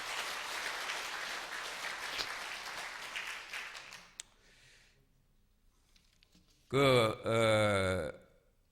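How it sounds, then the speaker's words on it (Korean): Listeners at a lecture during a peace and reunification prayer meeting marking a 97th anniversary break into broad applause. It holds steady for about four seconds before dying away. Later a brief voiced sound rises over the quiet hall. "여러분 박수 쳐주시면 감사하겠습니다."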